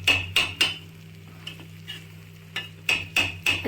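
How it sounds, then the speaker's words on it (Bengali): Vegetables for a quick khichuri are stirred in a pot with a spoon, giving two clusters of close, sharp scraping clacks separated by a quieter stretch with a few soft knocks. "আজকে একটু তাড়াতাড়ি ছিল বলে সবজিগুলো আর ভেজে নিই।"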